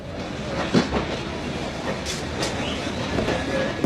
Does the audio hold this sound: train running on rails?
yes